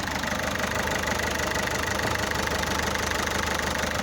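A car engine idles steadily during hydrogen decarbonizing cleaning, a continuous low rumble with a faint regular knock, close by and unchanging throughout.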